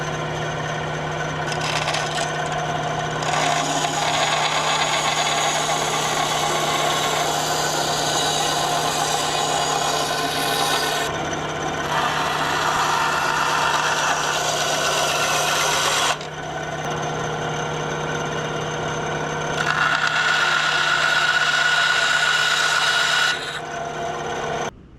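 A power tool cutting a block of Osage orange wood into a crankbait lure shape, a continuous rasping whine that shifts in pitch and pauses briefly between passes, close and loud with no talk.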